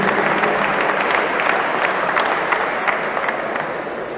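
An audience applauding at an opening ceremony in Majunga, a dense, loud, continuous clapping from a large crowd that keeps going and fades slightly toward the end.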